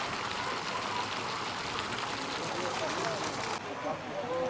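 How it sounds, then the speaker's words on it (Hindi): Water pours steadily from a carved spout into a stone temple pool at Tirta Empul in Bali, a continuous dense splashing rush that fills the whole clip at close range. "झरने के रूप में उसके मुंह से पानी सरोवर में जा रहा है"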